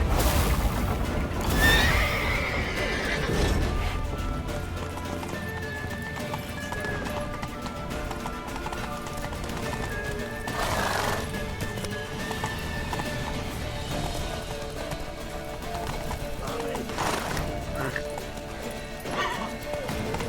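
Horses from The Witcher 3 video game whinny and clop their hooves in a galloping rhythm, with loud neighs standing out over a dense, busy game soundtrack while a voice calls out now and then.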